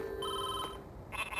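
A telephone rings in the WarioWare, Inc. video game, a short electronic ringing tone with bright harmonics that cuts off after about a second, followed by a quick burst of game sounds.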